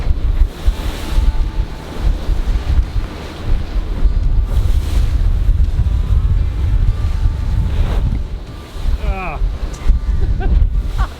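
Aboard a boat in the archipelago in about one-metre waves, strong wind buffets the microphone over continuous, loud wash and slap of surf against the hull, with a brief voice near the end.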